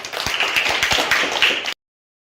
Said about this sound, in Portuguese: Palmas para vocês